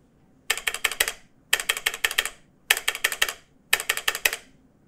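Typing on a Redragon K616RGB pink and white wireless mechanical keyboard in stock condition, four quick bursts of crisp, hollow key clacks separated by short pauses, close and clear with no talk.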